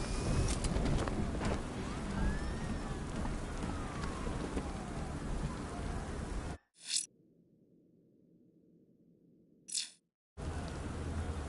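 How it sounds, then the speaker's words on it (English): Steady rain pours loudly for several seconds, then cuts out abruptly to a low hum before returning, with no voices heard. "What's with all the rain?"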